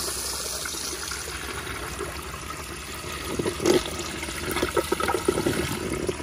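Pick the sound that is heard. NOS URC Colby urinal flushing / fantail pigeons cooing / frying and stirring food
NOS URC Colby urinal flushing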